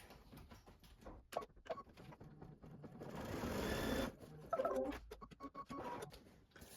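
A sewing machine stitches a trimming placement line on a quilt block, its quiet, fast mechanical whir running in bursts that build to a steady stretch mid-way, then stop-start again, with no voices.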